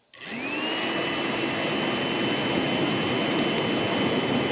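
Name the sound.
mattress pump blower blowing air into a dirt box forge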